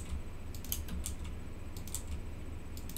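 Soft, irregular clicking of a computer mouse and keys while playing Space Engineers, faint and close against a low steady background hum.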